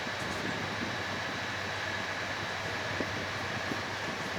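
Steady rumbling hum of a moving intercity train in Italy heard from inside, with a constant low drone and faint rattles, no voices.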